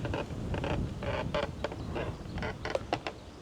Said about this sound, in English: Listen to that squeaking.